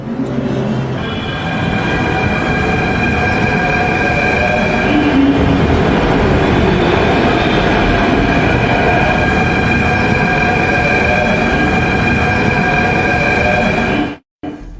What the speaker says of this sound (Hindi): मेट्रो शुरू हो गई है